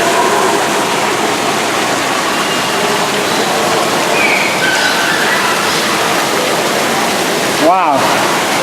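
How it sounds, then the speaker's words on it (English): Water from a small waterfall at Reptile Gardens rushes steadily and loudly throughout, with faint voices mixed in and a brief squeaky tone near the end. "Ah, a nice waterfall here."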